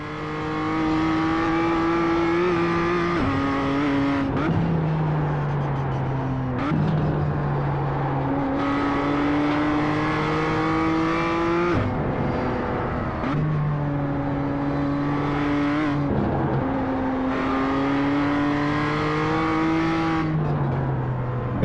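A race car laps the Nürburgring, its engine loud and close, revving up through the gears with repeated sharp shifts and rising whine, then dropping off under braking before pulling hard again.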